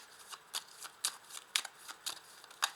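Cards are shuffled and one is drawn, giving a quick run of soft, papery riffles and snaps, about half a dozen crisp bursts close by and fairly quiet.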